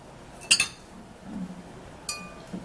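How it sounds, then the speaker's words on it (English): A glass cup is set down among juicing ingredients in a kitchen, giving two bright, sharp clinks about a second and a half apart, close and clear over faint background noise. "I'll get my glass cup."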